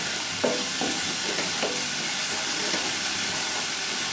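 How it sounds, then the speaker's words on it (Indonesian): Ground spice paste sizzling and frying in hot oil for braised chicken, a continuous close hiss with a few scraping stirs of a spatula, no voices. "Ini pertama saya tumis dulu bumbu halusnya."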